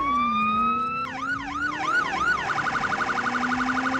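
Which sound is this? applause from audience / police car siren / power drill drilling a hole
police car siren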